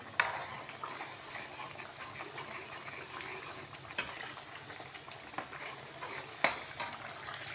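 Afghani kebab mixture fries in ghee in a pan, giving a steady sizzle with a spoon stirring and scraping, plus several sharp metallic clinks of the utensil against the pan.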